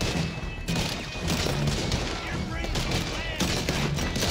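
Gunfire in Red Dead Redemption 2 during a gang shootout, with steady, loud shots and bangs layered over a chaotic battle din throughout.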